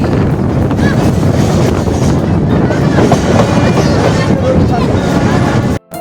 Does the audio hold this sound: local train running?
yes